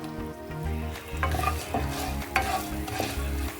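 Coriander seeds, garlic, fenugreek and cumin dry-roasting in a pan for gongura sesame chutney, with a soft crackling sizzle and rhythmic scraping stirs of the spoon, close and steady, no talk.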